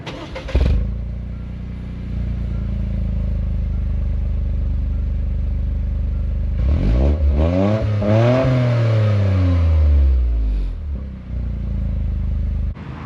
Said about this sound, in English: this thing has a really good sounding exhaust